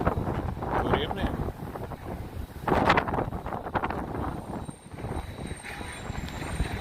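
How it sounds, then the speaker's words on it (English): Cold wind gusts in New York City in May, buffeting the microphone with uneven rushing surges and low rumble, heard close and fairly loud, while people talk faintly beneath. "It's windy in New York City, windy and cold."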